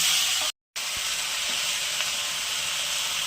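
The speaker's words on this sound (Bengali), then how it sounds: "সর্ষ আর কালো জিরে ফোড়ন দিচ্ছি। লঙ্কাটা দিয়ে দিলাম," Mustard seeds, black cumin and dried chili crackle in hot oil as a dense, steady sizzle, with a brief dropout early on and faint pops throughout.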